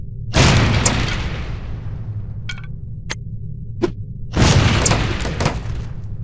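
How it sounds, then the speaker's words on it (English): Lipstick-shaped explosive devices blow up on impact in the spy game No One Lives Forever: two loud, booming blasts with long rumbling decays, separated by a few sharp clicks and pings over a steady low hum. "These relatively inconspicuous-looking lipsticks are actually powerful explosive devices that detonate on impact."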